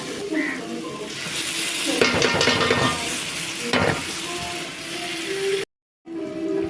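Onions and tomatoes sizzle in a pan for a fish curry while a spoon stirs with repeated scraping strokes over a steady frying hiss; the sound cuts out briefly near the end.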